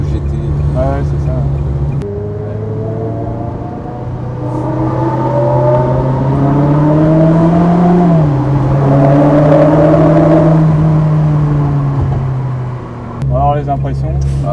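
A Ferrari on a ride, its engine droning and rising in pitch as it accelerates, steady and fairly loud from inside the cabin, with people talking over it.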